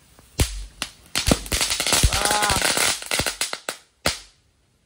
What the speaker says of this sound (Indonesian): menyalakan mercon telur dino di atas balon